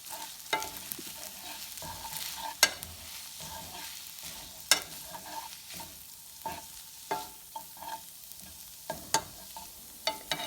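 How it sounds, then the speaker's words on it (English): Sesame oil stirred into yaki udon in a hot pan, a steady soft sizzle with repeated scraping strokes and sharp clicks of a utensil against the pan, no voices. "the last step is to add in your sesame oil. Just goes right on top and give that a quick stir."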